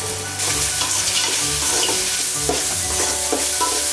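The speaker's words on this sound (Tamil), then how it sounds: "தக்காளி நல்லா வதங்கிடுச்சு" Tomatoes sauté in a pan over onions for crab masala, a loud close sizzle with repeated spatula scrapes and taps stirring in a brisk rhythm, no voices.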